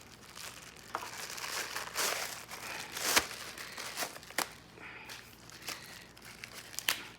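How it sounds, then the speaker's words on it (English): Plastic packaging crinkles and crackles as a wand part for a Simoniz 1900 psi electric pressure washer is pulled free, steady close handling noise with a few sharper crunches and tears, no speech. "So this opens up out of the plastic."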